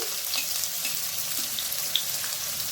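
Chopped onions frying in a pan with cardamom, bay leaf and melted sugar for mutton keema tadka, giving a steady soft sizzle with small pops and crackles throughout, no talking.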